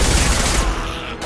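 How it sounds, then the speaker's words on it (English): A concussive shot fires in a video game, a loud burst of booming blasts that rings out and then fades toward quiet. "Firing concussive shot!"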